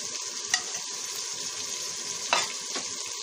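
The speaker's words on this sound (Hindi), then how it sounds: "अब इन मसालों को थोड़ी देर भून लेंगे।" Salt, chilli and turmeric fry with green beans and potato in a pan, giving a steady close sizzle broken by a few brief scraping stir sounds.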